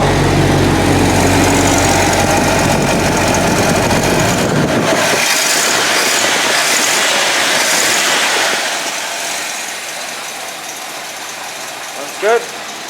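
A 1958 Chevy Nomad wagon engine idles with a steady low rumble for about five seconds, then cuts out, leaving quieter background noise and a brief sharp sound near the end.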